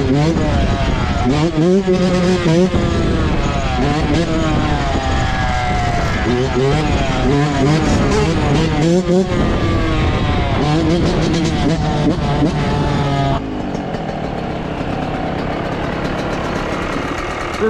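Two 2019 Yamaha YZ125 two-stroke dirt bikes are revved hard together during wheelies, their engines loud and close. Rapid rising and falling screams repeat again and again, then drop to a lower steady burble near the end, with voices mixed in.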